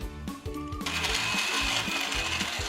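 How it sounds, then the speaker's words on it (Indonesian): A blender whirs at full speed while it purees fruit with a little milk. A few stuttering pulses at the start give way to a steady grinding roar. "Lalu blender buah secara bertahap."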